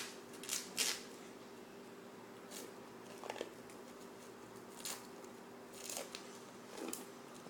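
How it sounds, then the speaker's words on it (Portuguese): Scissors snip through plastic cling film wrapped around corn kernels for microwave popcorn, a series of sharp crisp cuts at irregular intervals, some in quick pairs, close and alone. "Depois de ter ficado assim, no papel filme, você pega uma tesoura"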